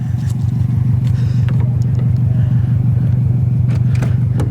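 Subaru car engine rumbling close by with a steady low throb and a slight rhythmic pulse, loud and continuous, no talk over it.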